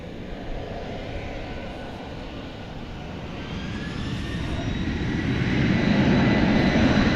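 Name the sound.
UPS cargo jet departing DFW Airport for Louisville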